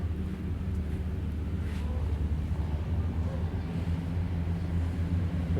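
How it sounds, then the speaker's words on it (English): Steady low rumbling drone of a boat engine, continuous and fairly quiet, with wind-like hiss on top and no clear voices. "Excuse the boat noises."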